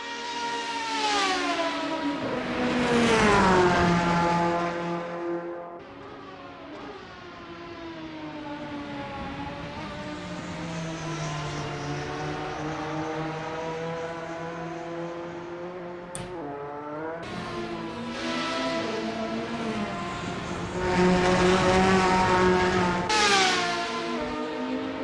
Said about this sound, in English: Is that a Ferrari V12 I hear?